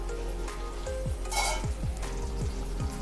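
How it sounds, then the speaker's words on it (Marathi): Green peas sautéing in ghee in a pan, a steady sizzle with repeated short scraping strokes as they are stirred, close and fairly loud, no talking. "हे बघा, हलके परतून घेऊया"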